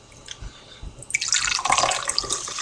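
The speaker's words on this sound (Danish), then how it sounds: "Du hælder bare lidt op, Hansi" A drink, a cheap Panda soda, is poured into a glass, giving a steady, close trickling and splashing that builds louder after about a second and keeps running to the end.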